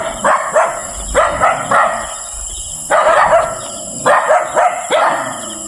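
A dog barks in a series of about six sharp, close bark bursts at an uneven rhythm, some with yipping, whimper-like edges, over a faint steady background hum.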